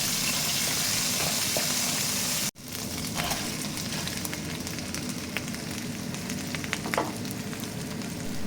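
Garlic and onion sizzle steadily in leftover frying oil for beef bistek Tagalog, a dense continuous crackle with a brief dropout near the start, then scattered pops and stirring scrapes.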